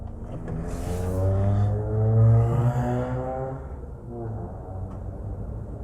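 A car engine revs in first gear as the driver pulls away during a driving exam, a rising, droning hum that swells and fades across several seconds, close and fairly loud, with no talk.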